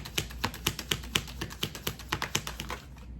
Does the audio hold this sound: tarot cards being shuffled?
yes